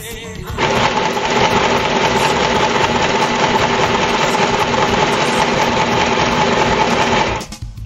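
Sewing machine stitching a straight line through fabric, running steadily and close for about seven seconds before stopping abruptly.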